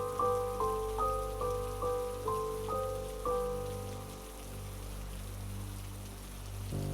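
Steady rain patters on a surface throughout, with soft, sustained musical tones ringing over the first few seconds.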